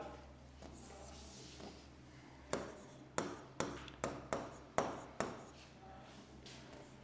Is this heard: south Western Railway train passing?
no